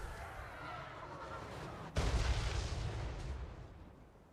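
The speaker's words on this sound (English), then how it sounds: "Hell Cannon still firing away at the Sisters of Twilight." Hell Cannon artillery in Warhammer 3 fires one loud, heavy boom with a sharp crack, which rolls off into a long rumbling tail over a steady din of battle.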